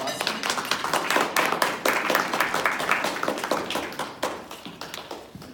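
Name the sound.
audience applause for a club speaker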